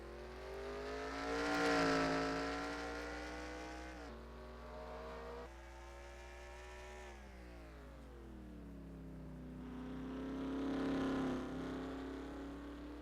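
A sim race car engine in qualifying at Thornton drones steadily with a high, harmonic whine that rises and falls with shifts and corners, heard alone at moderate loudness.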